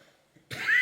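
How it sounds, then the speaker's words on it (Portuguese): One abrupt, harsh cough bursts out close by after a near-silent pause and is still going at the end. "estou um pouco tossindo"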